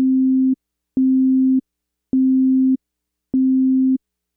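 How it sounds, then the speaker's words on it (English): A pure, steady electronic tone at one low pitch, switched on and off four times in even bursts about half a second long with short gaps. "The simplest wave type is a sine wave, which contains only one frequency, a fundamental pitch."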